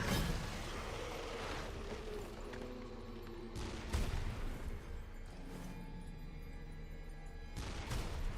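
Cannon fire from the action game Wuchang comes as a string of heavy booms and sharp blasts over a dense, rumbling battle soundscape, with several loud bursts spaced across the stretch.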